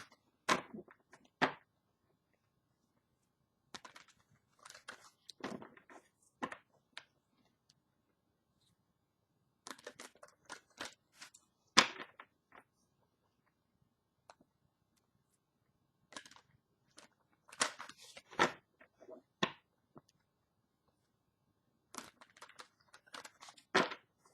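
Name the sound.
shuffling cards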